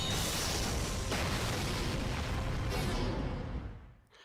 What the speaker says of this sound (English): That's one heck of a mighty explosion.